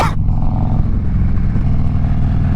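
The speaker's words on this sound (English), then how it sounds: "Ooh, we got some motorcycles." Loud, steady engine rumble of Harley-Davidson motorcycles passing close by, a continuous low drone holding throughout.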